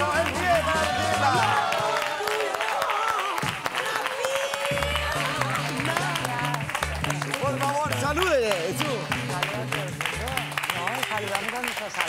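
A live television studio audience applauds for a magician, with scattered cheering, while loud rhythmic music plays throughout and dominates the mix.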